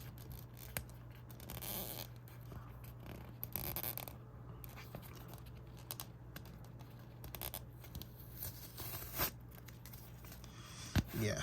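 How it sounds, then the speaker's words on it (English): A sticker is peeled slowly off the thin foam insole of a Nike Tiempo Legend 10 Elite football boot, giving a close, quiet, continuous crackling tear with small rustles, and no voice. "So we're going to take off the sticker."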